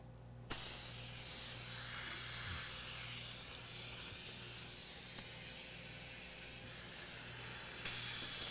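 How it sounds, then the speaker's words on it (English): A dental burr handpiece smooths away grit at the edge of a Voco glass ionomer filling during root canal treatment. It gives a steady, close, airy hiss that starts abruptly and runs almost the whole time with no talking. "I need to just touch this with a burr and clean off that"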